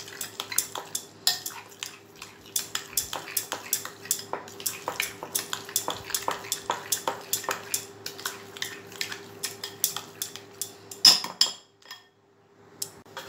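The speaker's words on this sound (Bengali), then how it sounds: "এবার আমি খুব ভালোভাবে এটাকে মিক্সড করে নেব।" A spoon mixes cooked rice with sour yogurt in a bowl for South Indian curd rice, making steady, close, rhythmic clinks and scrapes against the bowl that stop near the end.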